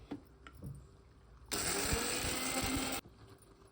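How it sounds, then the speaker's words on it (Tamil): A mixer grinder powders roasted masala for a Tamil karakuzhambu. Light clinks come first, then the motor roars into a loud, steady whirring grind for about a second and a half and cuts off abruptly. "வறுத்து வச்சிருந்த மசாலாவை இதில் கொட்டி பொடி பண்ணிக்கலாம்"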